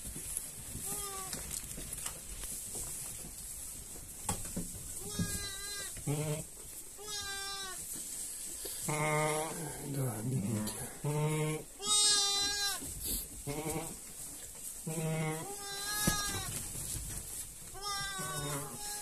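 Young rams and adult sheep bleat repeatedly on a farm where newborn lambs are kept, with loud, overlapping calls coming in bursts close by and a voice speaking between them.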